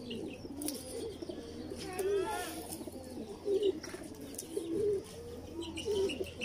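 Kasuri pigeons coo in soft, repeated low rolls close by, with a few chirps and faint rustling over a steady background hum.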